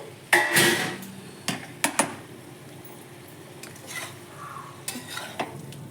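Cauliflower stems being stirred in mustard paste in a pan, with scattered sharp scrapes and knocks of a utensil and a faint sizzle between them, near and otherwise quiet.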